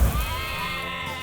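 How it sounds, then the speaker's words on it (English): A cartoon sheep bleats in one drawn-out, wavering call, close and fairly loud, heard briefly on its own in an animated dragon series. "The sheep got out again."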